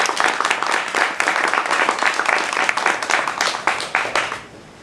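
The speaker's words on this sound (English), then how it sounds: "Let's give him another round of applause." Audience at a book signing applauds loudly and continuously for several seconds, a dense wash of clapping that cuts off near the end.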